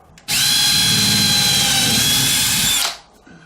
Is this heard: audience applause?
no